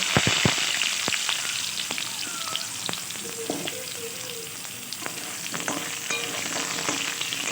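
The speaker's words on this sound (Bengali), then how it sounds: "এবার এই তেলের মধ্যে আমি দিয়ে দিচ্ছি জিরে একটু ফোড়ন" Cumin seeds sizzling in hot oil for tempering, a close steady crackling fry with scattered sharp pops and a few light utensil clinks, no voices.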